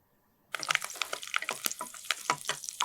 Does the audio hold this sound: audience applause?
no